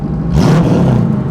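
A 1969 Ford Torino GT V8 with a single tuned cherry bomb muffler revs briefly, a loud close engine roar rising and settling within about a second.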